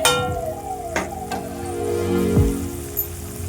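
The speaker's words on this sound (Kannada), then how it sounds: "ಈಗ ಮಸಾಲೆ ಕುದೀತಾ ಇದೆ." A pan of yogurt masala gravy bubbles and sizzles softly and steadily, with a few light scrapes and clinks of a utensil against the pan.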